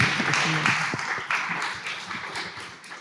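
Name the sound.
audience applause at a forum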